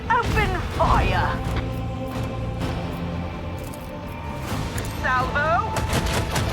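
A salvo of ship cannons in Warhammer 40000 Rogue Trader, a dense burst of booming fire with rumbling reverberation, accompanied by brief voices speaking.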